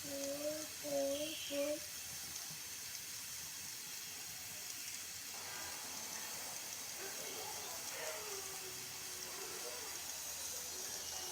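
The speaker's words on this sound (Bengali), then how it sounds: "এই তো একটা সিটি চলে এসেছে।" A pressure cooker on a stove, cooking chicken with mung dal, lets off a steady, broad hiss of escaping steam that runs throughout, with a brief voice-like tone at the start.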